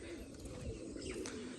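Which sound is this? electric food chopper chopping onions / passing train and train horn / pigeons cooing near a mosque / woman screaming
pigeons cooing near a mosque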